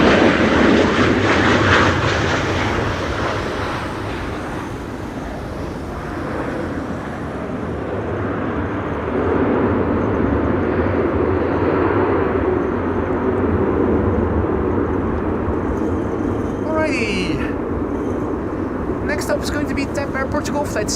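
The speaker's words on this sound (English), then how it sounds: "arriving from Lisbon. It's an A321neo." An Airbus A321neo jet arriving at Amsterdam Schiphol in storm-force wind, its engine roar loud at first then a sustained rumble mixed with heavy wind buffeting, with people talking faintly at times.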